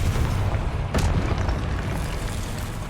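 A Confringo spell explosion in the Hogwarts Legacy video game, one loud sharp blast about a second in over a dense rumbling battle din.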